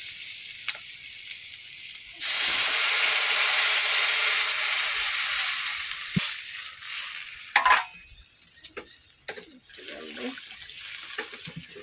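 Water poured into a hot pan of fried onion and puti fish bursts into a loud rushing sizzle, then dies back to a softer bubbling hiss broken by clinks and stirring noises.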